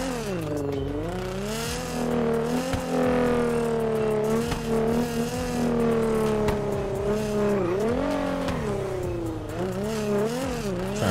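A car in the video game GTA 5 drives hard with engine revving that rises and falls through gear changes, plus occasional tire squeals, loud and close throughout with no talking.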